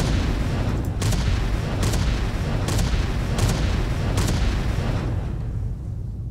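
Projectile impacts and explosions in an Unreal Engine 5 game, a loud dense rumble with a series of five or six evenly spaced sharp bangs over a continuous roar that fades slightly at the end.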